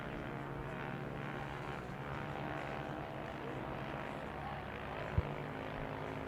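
A 2008 KTM motorcycle races around a track through turns three and four. Its engine gives a continuous buzzing drone heard from a distance, steady in level, with a single sharp thump near the end.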